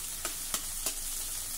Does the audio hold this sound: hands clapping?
no